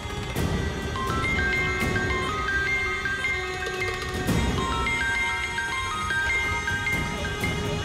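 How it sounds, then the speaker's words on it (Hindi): A mobile phone ringtone melody repeating unanswered over a TV drama's background music, a bright chiming tune cycling steadily at moderate loudness without anyone speaking. "ये विष्णु पता नहीं आज अपना फोन क्यों नहीं उठा रहा है।"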